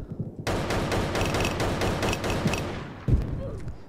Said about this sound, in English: Suppressing with lots of bullets.